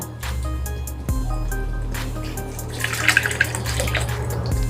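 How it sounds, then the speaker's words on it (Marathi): Water is poured into a vessel to rinse fresh spinach for a garlic palak dish in a home kitchen, a steady trickling flow with a low hum underneath and a few splashy drips near the end. "मी पाणी ओतून घेणार आहे"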